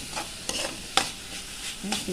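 Sambar spinach being stir-fried in a pan in a Kerala village kitchen: a light sizzle broken by several sharp, uneven spatula scrapes and tosses, close and fairly quiet, with no voices.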